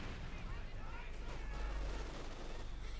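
Machine gun and rifle fire in the Company of Heroes 2 video game, a dense, faint rumble of distant gunfire and blasts running continuously under the game's battle noise.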